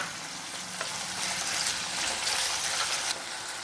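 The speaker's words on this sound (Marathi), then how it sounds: "तेल गरम झाले, मी कांदा घालते तेलामध्ये आणि कांदा आपल्याला 2 मिनिटं परतून घ्यायचा आहे" Chopped onion and green chili sizzle in hot oil in a pan for bombil bhat, a steady, loud frying hiss with soft stirring scrapes running throughout, no voice over it.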